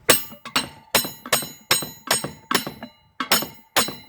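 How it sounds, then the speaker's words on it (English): A metal hammer strikes a chrome motorcycle part again and again, about nine sharp ringing clanks in an uneven rhythm, each with a bright metallic decay, close and loud, with no talking. "I'm going to have to take a hammer."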